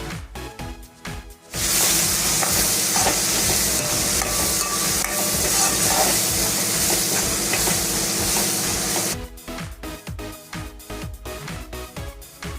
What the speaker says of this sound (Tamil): தக்காளி வெங்காயம் நல்லா வதங்கிக்கிட்டு இருக்கு